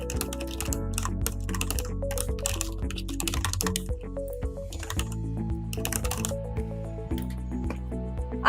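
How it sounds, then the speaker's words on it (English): Keys tapped on a computer keyboard while entering login credentials, a busy run of clicks over a steady hum of background music throughout. "Here you can see you need to type your credentials."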